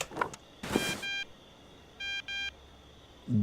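Electronic phone-call beeps from the Thief Simulator video game: a few clear, steady tones in short bursts with gaps between them, preceded by brief clicks and thumps, with no one talking.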